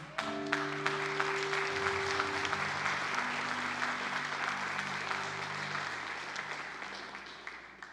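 A church congregation bursts into sustained applause during a worship service, a dense wash of clapping that holds steady for several seconds and tapers off near the end, with a low sustained tone underneath.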